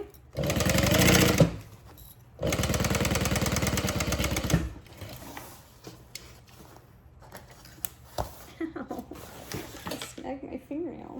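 Sewing machine stitching backpack fabric while making a Trailblazer backpack, running in two long loud bursts of rapid stitching near the mic, followed by quieter handling clicks and rustles.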